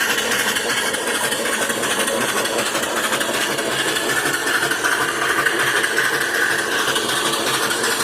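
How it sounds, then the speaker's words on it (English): A small steam engine driving an electricity generator runs steadily and evenly, with a fast, busy mechanical chuffing and whirring close by and no talking. "Really sweet running engine, beautiful."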